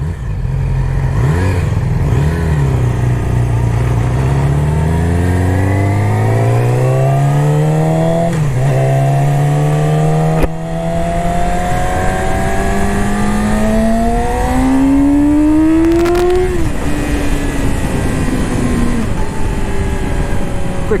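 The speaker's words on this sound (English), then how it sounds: "2018 R6. We're gonna start it off in B mode here for this ride and review." A 2018 Yamaha R6 sportbike ridden in B mode, its engine revving up through the gears with rising pitch, brief dips at each shift, loud and close throughout with constant wind rush.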